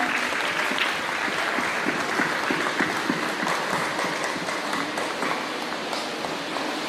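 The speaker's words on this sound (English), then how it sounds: "put our hands together and give this a clap" An audience at a children's summer camp concert claps steadily for several seconds, a dense, even applause that holds at the same level throughout with no speech.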